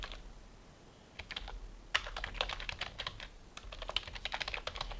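Computer keyboard typing, close and quiet, starts slowly and then runs as steady rapid key clicks with short pauses; no voices.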